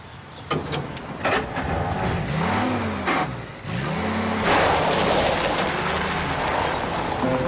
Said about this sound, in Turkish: Arabayı büstün oraya doğru sür.